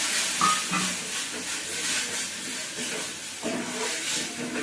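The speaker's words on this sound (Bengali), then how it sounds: "এটা মশলা ধোয়া জল একটু দিয়ে দিন।" Water left from rinsing spices is poured into a pan of fish curry with green mango paste, giving a steady hiss and sizzle with faint stirring, close and alone without speech.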